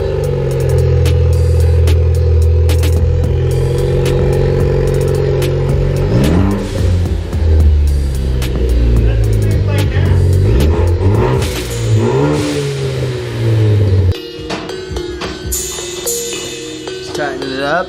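A loud, raw car engine with the muffler deleted revs and roars up and down several times, then drops to a rough, rumbling idle.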